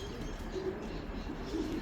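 Racing pigeons at the loft after a 350 km race give soft, low cooing calls close by, repeated a few times over a steady background hum.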